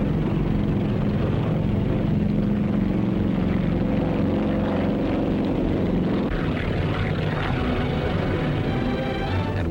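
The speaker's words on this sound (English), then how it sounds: "At dusk, the first planes took off, each transport towing twin gliders." Transport planes take off at dusk, each towing a pair of gliders, for a wartime airbase in Burma. A loud, steady propeller-engine drone fills the whole stretch with a deep rumble and no pauses.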